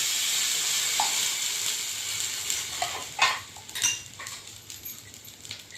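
Ripe mango pieces dropped into a hot sizzling tempering for a mango pulp vegetable dish, a steady bright sizzle with a few clinks of a spoon in the pan near the end.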